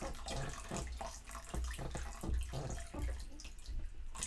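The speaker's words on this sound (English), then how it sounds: "We're going to pour in a little bit of this, and as I pour it in, it's going to start mixing and joining up the guar gum." Borax mixture is poured into a large batch of guar gum slime, giving wet sloshing, glugging and splattering sounds in uneven bursts, fairly close, with no talk.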